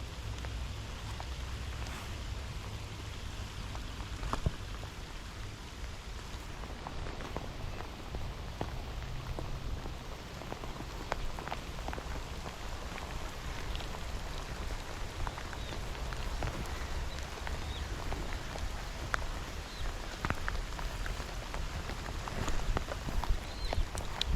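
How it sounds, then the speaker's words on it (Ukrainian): Steady heavy rain pattering continuously on surfaces, a dense broadband hiss with scattered nearby drops, holding for the whole stretch without voices. "ось такий рясний дощ у нас почався"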